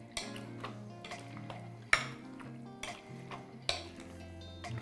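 Tofu with a little soy milk is mashed in a pan, sharp utensil taps and clinks against the pan at a slow, uneven rhythm over a faint steady sizzle, close and fairly quiet.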